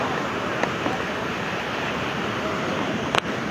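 Floodwater rushes through the breached embankment of the Gomti river, a steady broadband roar that fills the whole stretch, with a few faint clicks and bumps on top.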